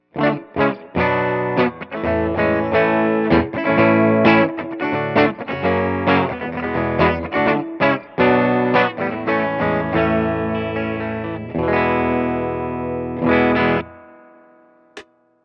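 Jazzmaster electric guitar on a clean tone through the bridge pickup, a run of plucked notes and chords played in steady phrases, ending with a sustained chord that rings out and fades to silence.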